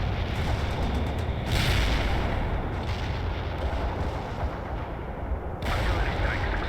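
Artillery barrage explosions in the video game World in Conflict: Soviet Assault on a snowy battlefield, a dense, continuous rumble of heavy booms with several sharper blasts punching through.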